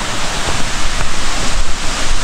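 Water of Nalalata Falls, a waterfall, pours as a steady, loud broadband rush with continuous wind-like roar and no voices.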